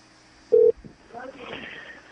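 A Skype call dialing out to a landline: a single short, loud dial tone beep, then softer tones and line noise, closing with another sharp beep.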